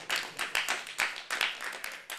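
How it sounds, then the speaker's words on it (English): A small crowd at a live hip-hop performance claps in an irregular, fairly quiet patter of sharp hand claps with no voices over it. "you can clap. It's all good."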